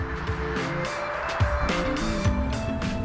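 A base-model 2022 Ford Maverick hybrid pickup on the road, its engine and road noise a steady close hum with shifting tones throughout.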